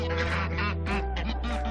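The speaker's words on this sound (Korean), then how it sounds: "이번에 앵두를 괴롭히는 거위는 레오그룹의 윈이라는 녀석이다" Geese attack a duck and bite at it while it quacks repeatedly, close by. A dense run of loud, overlapping honks and quacks holds steady throughout, with no voices present.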